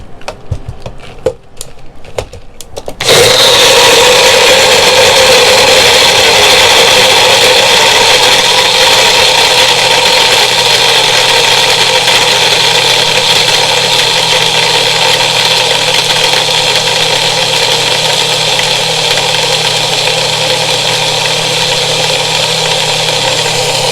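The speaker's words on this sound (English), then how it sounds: "blend it until you don't hear the ice crushing" A loud, steady blender motor roars continuously after a few seconds of rattling, grinding ice, droning on without talk.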